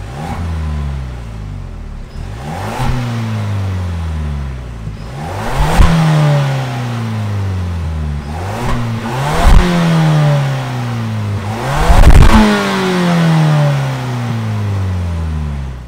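A 2022 Ford Bronco's 2.3-liter EcoBoost engine revs again and again, each loud rise climbing in pitch and dropping back to idle, close up, with about five sweeping revs and no talk.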